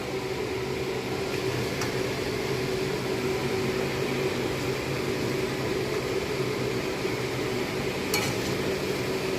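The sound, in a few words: stirring banana flower with fried coconut and shrimp in pan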